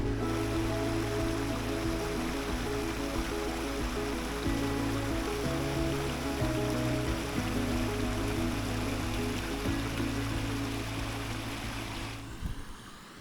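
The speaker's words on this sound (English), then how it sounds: "the river you walk down beside here is called the Altnamfang, and that runs all the way down there" River flowing beside a hiking trail in the Scottish Highlands on a rainy day, steady dense rushing water close by, unbroken and without voices, easing slightly near the end.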